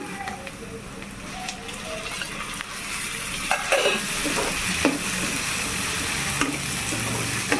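Onions and tomatoes fry in a pan for a vada curry, a continuous close sizzle under repeated scraping and stirring strokes of a spoon against the pan.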